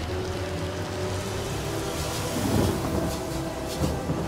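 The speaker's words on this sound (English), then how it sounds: "They're making it rain more," Steady rain falls on a battlefield in Divinity: Original Sin Enhanced Edition, a continuous dense hiss with a couple of faint, brief swells and no speech.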